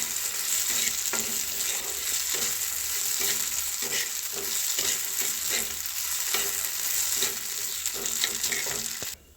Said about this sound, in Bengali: দিয়ে দেবো এবার চালগুলো। এটা কম কম আছে, খুব ভালো করে ভাজতে হবে।